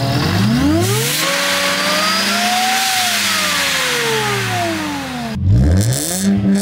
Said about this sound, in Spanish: el sonido del coche.